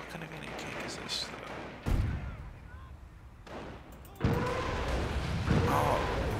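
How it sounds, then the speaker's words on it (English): Nebelwerfer rocket artillery launches in Company of Heroes, a few heavy bursts with rushing roars and a sustained rumble of battle between them, fairly loud and without talk. "And there goes those Nebelwerfers going off."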